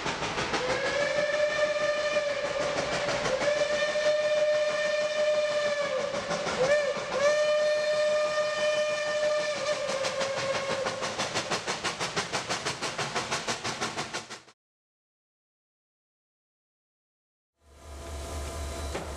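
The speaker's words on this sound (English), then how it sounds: "at the Western Maryland Scenic Railroad with their newly restored former Chesapeake and Ohio Mallet number 1309" The restored former Chesapeake and Ohio Mallet steam locomotive No. 1309 on the Western Maryland Scenic Railroad sounds a long, chorded whistle over chuffing and rolling noise. The sound cuts to silence, then the train rumbles again.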